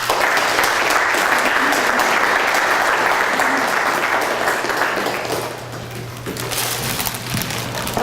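Sustained applause at a county board meeting honoring a board member, a roomful of people clapping loudly for several seconds before it thins and trails off toward the end.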